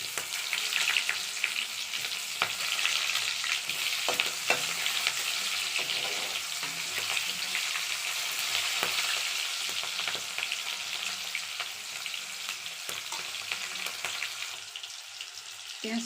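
Chopped onions sizzle and fry steadily in hot oil in a wok over a fire, a continuous close crackling hiss with occasional stirring clicks, no voices.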